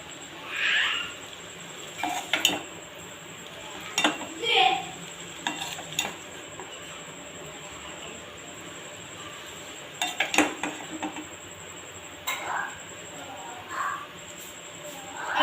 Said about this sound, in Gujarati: હવે આપણે એને 2 ચમચાથી હલાવશું એ મિક્સ બરાબર થઈ જાય